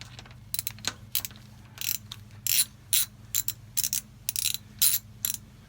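A small metal cap on a 2016 Toyota 4Runner oil filter housing is worked loose, probably with a ratchet: a series of short, crisp ratcheting bursts, close and fairly quiet, in irregular rhythm with brief pauses.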